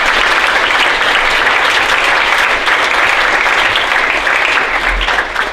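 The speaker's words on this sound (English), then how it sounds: "they really do deserve your applause" A hall audience at a question-time event gives the organising committee a sustained round of applause: thick, continuous clapping at a constant loud level, alone without talk, easing slightly at the very end.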